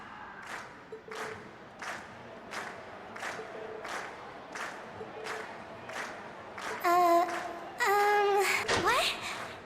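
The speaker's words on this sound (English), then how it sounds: "we've heard your cheers loud and clear" Cheering and clapping from a crowd in the video game Trails of Cold Steel, heard as a steady wash of applause with rhythmic bursts, then brighter tonal game sounds near the end.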